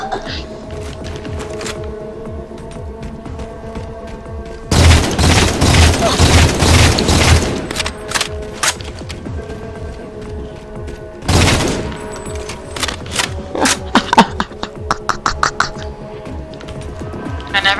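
Halo 4 gameplay gunfire: a loud sustained burst of automatic fire, a shorter second burst, then a rapid run of sharp single shots, with a player talking intermittently.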